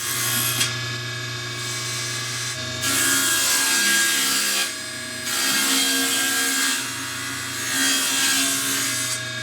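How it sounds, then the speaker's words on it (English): A table saw cuts wooden panels for deep shop cabinet shelves, its motor humming steadily while the blade bites in three loud sustained passes, each falling back to the idling whine between cuts. "I'll cut the panels for the shelves to that width."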